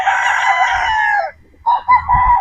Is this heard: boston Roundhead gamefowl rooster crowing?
yes